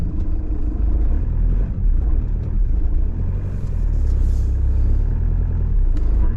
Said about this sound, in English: we're getting pulled by the tractor